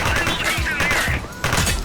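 A quick burst of gunfire in the police game The Precinct, a few sharp, close shots with a short lull before another crack.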